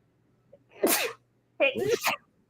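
A single loud sneeze bursts out nearby, and a voice follows right after it in a quiet room.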